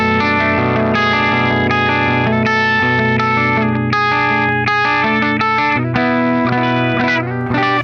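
An electric guitar plays ringing chords and single notes through the clean channel of an Orange Gain Baby 100 Class D amplifier, loud and close with a lush, effected shimmer and no talking.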